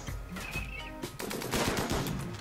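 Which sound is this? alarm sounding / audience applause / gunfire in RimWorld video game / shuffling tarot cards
gunfire in RimWorld video game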